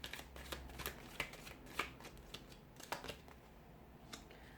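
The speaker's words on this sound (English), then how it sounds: "we'll give the cards a shuffle" A deck of tarot cards is shuffled close by, a series of crisp riffling flutters and soft taps in quick succession.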